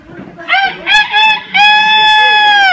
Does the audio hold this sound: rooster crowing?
yes